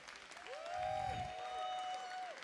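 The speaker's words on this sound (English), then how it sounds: "can I please ask for a huge round of applause for Mr. James Brocklebank" An audience at a snowboard event applauding: a moderate swell of clapping from a crowd, with a sustained high whistling tone running over it.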